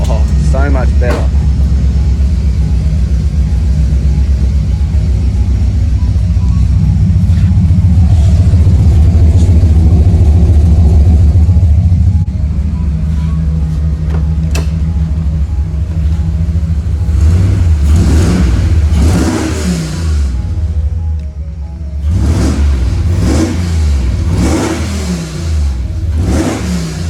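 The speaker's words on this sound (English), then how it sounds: "I forgot how good that exhaust sounds on this." The exhaust of a supercharged Holden VZ Alloytec ute rumbles loudly at close range. It holds a steady roar, then is blipped through several rising and falling revs toward the end.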